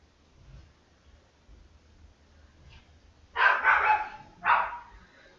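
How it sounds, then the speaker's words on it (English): Dogs bark outdoors in the distance during a home workout, two loud bursts of barking after a quiet stretch of faint low rumbling. "Dogs are barking outside."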